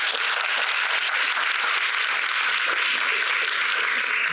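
An audience at an evening tech talk applauds the first speaker, a dense, steady patter of many hands clapping throughout, fairly loud and with no talk.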